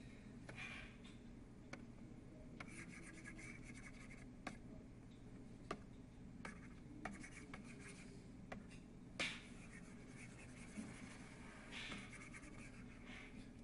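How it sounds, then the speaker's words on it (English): A board being erased during a calculus lesson on the derivative, heard as soft scratchy rubbing strokes with occasional taps, faint and steady with no voices. "Okay, so once again I have to erase this stuff again."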